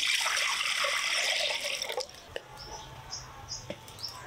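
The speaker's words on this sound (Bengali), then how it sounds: "হাঁড়িতে জল নিলাম" Water pours into a cooking pot with a steady rushing splash for about two seconds, then thins to scattered drips and small trickles, close by with no talk.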